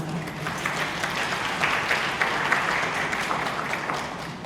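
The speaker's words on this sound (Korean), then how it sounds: "큰 박수로 맞이해주시기 바랍니다" Steady applause from a lecture audience at a university admissions academy, sustained at an even level throughout without breaks or voices rising above it.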